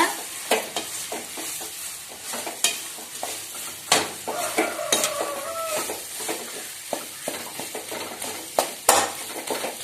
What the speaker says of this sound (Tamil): நல்லா கை விடாம இதை கிளறிக்கிட்டே இருக்கணுங்க